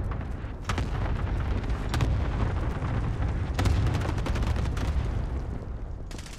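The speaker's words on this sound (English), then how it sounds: "Enemy cluster strike incoming. Take cover." A cluster strike in Call of Duty Warzone sets off a series of heavy booming explosions that roll into one another, loud and continuous, with several sharper blasts standing out.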